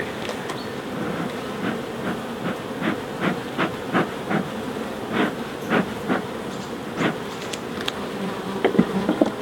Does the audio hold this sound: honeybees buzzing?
yes